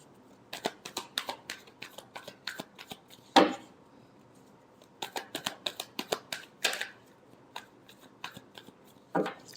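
Tarot cards being shuffled by hand in a quiet room, a series of crisp riffling bursts and soft slaps in two clusters with a pause between, near and fairly faint, with no talking.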